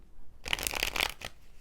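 Intimate Tarot deck being shuffled by hand, a short, close burst of crisp riffling card flutters lasting about a second, then silence.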